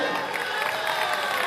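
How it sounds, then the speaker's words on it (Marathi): A large crowd at a political rally in Mumbai's Mahim area claps and cheers in a dense, steady wash of sound that lasts the whole moment without a break. "टाळ्या वाजून ऐकू द्या."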